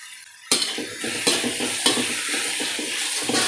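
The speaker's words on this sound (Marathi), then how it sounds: "हे व्यवस्थित परतवून घ्यायचं आहे या भाज्या आपल्याला जास्त शिजवायच्या नाही आहेत" Vegetables with spring onion are stir-fried for Indo-Chinese hakka noodles, a hot pan hissing with sizzle while a utensil scrapes and clanks against it in repeated strokes, close and loud.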